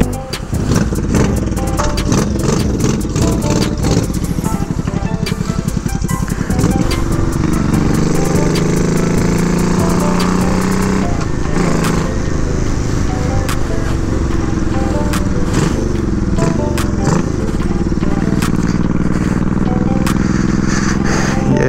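A 1987 Honda Shadow motorcycle, now fitted with a fuel pump, runs on a test drive. Its engine drones loudly and continuously up close, with gear changes and rising and falling revs under heavy wind rumble, and no talking.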